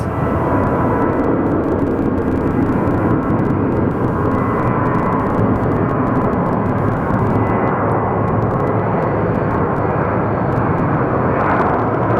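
A United airliner rolls down the runway at Phoenix Sky Harbor Airport with a loud, steady, unbroken engine roar that stays close and heavy throughout, with no voices.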